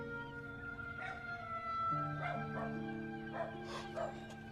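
A dog yips and whimpers in short bursts over a steady tonal background hum. The sound is faint and fairly distant, and no one speaks over it.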